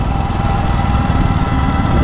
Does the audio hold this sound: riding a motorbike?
yes